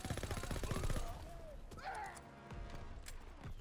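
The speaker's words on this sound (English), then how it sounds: "Ez a MG42 mániájuk." MG42 machine gun fire in Call of Duty WW2 during Operation Cobra: a rapid rattle of sharp bursts in the first second, then scattered distant shots and clatter, with people talking over it.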